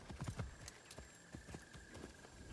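Horse hooves clip-clop at a steady walking rhythm while riding in Assassin's Creed Shadows, the light repeated thuds close and moderately loud over a low game ambience, with a faint tonal hum running throughout.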